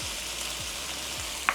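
Canned chicken stir fry seasoned with pepper, salt and garlic powder sizzling in a pan, with a steady hiss and three quick tossing sweeps; no talking.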